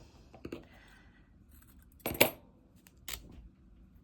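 Cotton fabric is ripped by hand in a few short, sharp tearing bursts, close and fairly quiet, separated by near silence.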